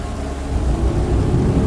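Heavy rain pours steadily while low thunder rolls and rumbles underneath, swelling slightly louder partway through; no voices are heard.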